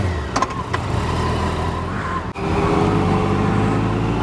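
A 2015 Yamaha FJR1300 motorcycle with a GYTR exhaust drones steadily and loudly up close, holding a constant engine note with a brief dip midway and no talking.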